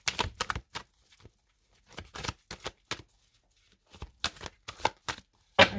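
Tarot cards shuffled and slapped down one by one, a series of short crisp flicks and snaps in irregular bursts with pauses between, close and fairly quiet.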